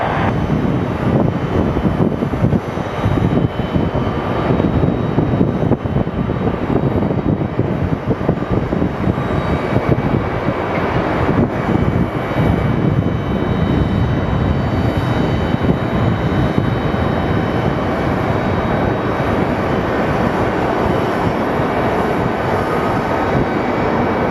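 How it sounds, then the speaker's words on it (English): A regional jet landing on runway 26 at Phoenix Sky Harbor Airport in calm, light wind, a sustained rushing engine roar that stays loud and even for a long stretch. "regional jet short final, wind variable at 3"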